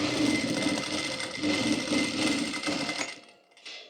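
A sewing machine stitches elastic onto the sleeve of a simple jumpsuit with a continuous close whir and rhythmic needle clatter. The whir runs steadily for about three seconds before it stops.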